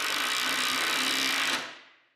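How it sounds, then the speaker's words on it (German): A power drill or screwdriver drives screws fastening frame parts onto a wooden board for a cyclekart, whirring steadily at close range, then winding down as the motor slows to a stop. "jetzt werden die Rahmenteile hier auf die Platte draufgeschraubt"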